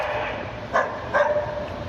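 A dog barks twice in short, loud bursts during a confrontation where a delivery man is attacked, heard over a steady background hiss.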